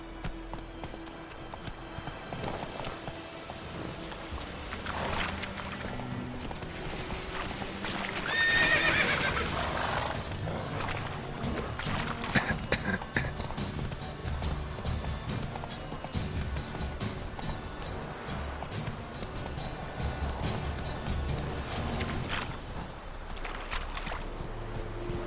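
A horse gallops and neighs in the video game The Witcher 3: Wild Hunt. Steady rhythmic hoofbeats continue throughout, with a whinny partway through, and the sound stays fairly loud and even.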